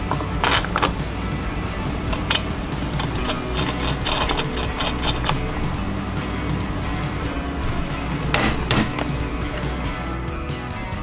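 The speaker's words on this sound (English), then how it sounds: "I use a homemade crankshaft stop while torquing down the flywheel nut." A ratchet wrench cranks steadily as the flywheel nut on a 460cc kart engine is torqued down against a crankshaft stop, giving a dense, close run of metallic clicking and rasping over a constant mechanical din, with no talk.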